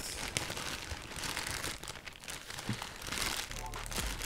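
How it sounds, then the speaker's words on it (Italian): Black plastic bag crinkling and rustling as a parcel from China is unwrapped by hand, steady crackling close up with someone talking over it. "Togliamo la busta nera."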